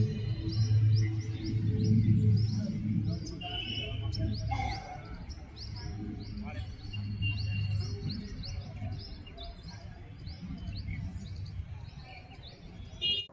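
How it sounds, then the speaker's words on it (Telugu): Birds chirp outside the Sri Gnana Saraswathi temple at Osmania University, with repeated short tweets and calls scattered over a low steady hum, fairly faint and with no talking. "పక్షుల కిలకిల రావాల సౌండ్, మీకు నేచర్ వాయిస్ వినిపిస్తా."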